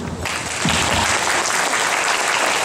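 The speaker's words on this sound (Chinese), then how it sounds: "咱甲拍手。" An audience at an elders' Double Ninth gathering bursts into applause, a dense, loud, sustained wash of many hands clapping together that continues steadily to the end.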